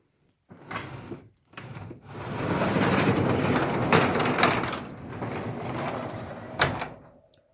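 A garage door being opened, heard as a few short knocks and clunks, then a sustained loud rumbling roll for several seconds that eases off, with a final bang near the end.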